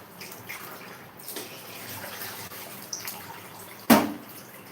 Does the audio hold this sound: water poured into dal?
yes